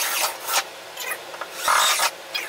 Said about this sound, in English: we're going to take some snips and cut this hole out